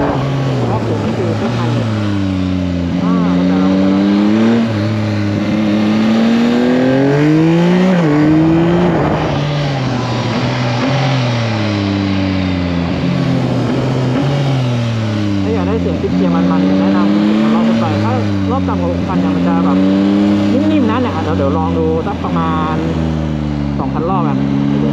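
A Yamaha MT-09 Y-AMT motorcycle with automatic-shift transmission revs repeatedly, its engine note rising and dropping as gears change quickly, loud and close throughout, with someone speaking over it.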